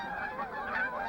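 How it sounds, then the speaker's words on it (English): Canada geese flying south honk in a continuous, overlapping chorus of nasal calls, fairly faint and unbroken by any voice. "Canadian geese seen flying south early this year."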